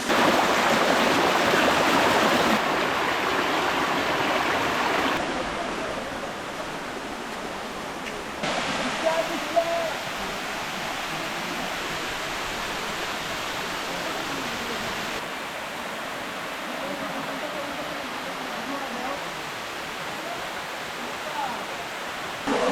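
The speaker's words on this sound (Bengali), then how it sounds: "আমরা চলে আসছি এই ট্রেইলের প্রথম ঝর্ণা টিপরাখুমে" Tiprakhum waterfall, the first falls on the Napittachora trail in Sitakunda, running low in the dry spell; a constant broadband rush of falling water fills the whole stretch, with a voice talking over it.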